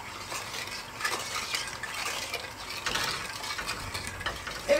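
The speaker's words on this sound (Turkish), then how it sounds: "Şimdi pudingimizi pişirelim karıştırarak." Milk pudding being stirred in a pot on the stove, a steady scraping swish that continues for the whole stretch at a moderate, close level with no talk.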